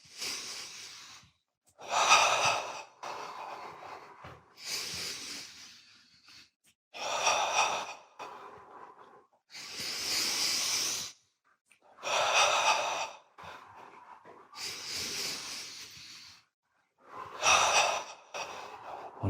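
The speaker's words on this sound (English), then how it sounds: "Notice his breath is getting longer because that's what happens." Long, deep breaths during a guided breathing exercise, drawn in and let out in a slow, steady rhythm of roughly eight full cycles, close and fairly loud, with brief quiet gaps between them.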